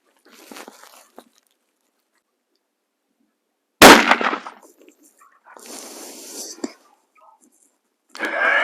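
A single sharp, loud report from an FN Ballista rifle chambered in .338 Lapua, fired with Winchester ammunition, bursts out after a quiet stretch, followed by a decaying tail and faint rustling and breathy noise.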